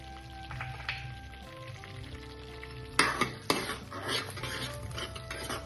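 Red pasta sauce cooking in a pan, with soft sizzling and several sharp stirring and utensil scrapes against the pan; the sound is close and clear, and no one speaks.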